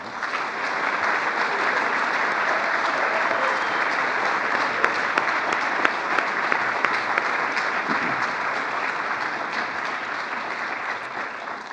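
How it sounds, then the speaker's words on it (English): Sustained applause from a ceremony audience honoring the 2023 Praemium Imperiale laureates, a dense, steady wash of many hands clapping at full strength throughout, with no voices breaking through. "So please join me in giving our 2023 Premium Imperiale laureates another round of applause."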